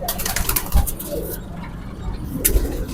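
Golden pigeons give soft, low cooing calls, close by among a murmur of background noise and faint voices.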